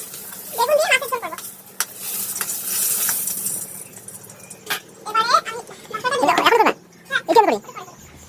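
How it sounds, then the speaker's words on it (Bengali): Eggplant pieces, cut and washed for a fish curry, sizzle in hot oil, the frying hiss running underneath someone talking intermittently in a home kitchen. "বেগুনগুলো যে কেটে ধুয়ে রেখে দিয়েছিলাম সেগুলো মাছের ঝোলের জন্য তো ভেজে নিচ্ছি"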